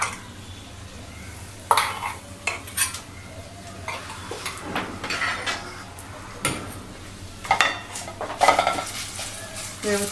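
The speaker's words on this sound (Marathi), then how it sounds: "चटणी पूर्ण तेलामध्ये अशी व्यवस्थित कलसून घ्यायची" Garlic and red chili chutney being stirred into hot oil in a pan for a Diwali murmura chivda, soft sizzling under intermittent clinks and scrapes of a spoon against the metal, without talking.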